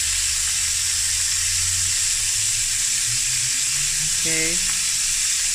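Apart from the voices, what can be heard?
sausage sizzling as it fries in a pan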